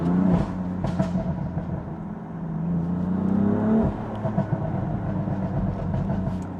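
A BMW M4 Competition Pack engine revs with a deep, rumbling exhaust note that rises and falls, then settles into a steady drone, moderately loud and without talk.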